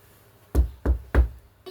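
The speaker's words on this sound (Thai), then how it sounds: "ใครมาเคาะประตูอะ" Three evenly spaced knocks on a door in a video game, close and solid, followed by a softer fourth tap, with no voices.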